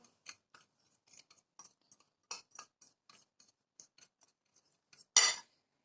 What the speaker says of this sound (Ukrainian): Це все добре перемішуємо. Можна вилочкою, можна вінчиком.